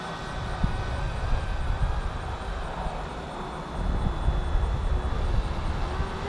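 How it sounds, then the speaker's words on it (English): A steady roar of an airplane engine passing overhead, broadband and continuous, swelling slightly louder toward the end, with wind rumble and no talking. "I have to watch out for the airplanes coming along."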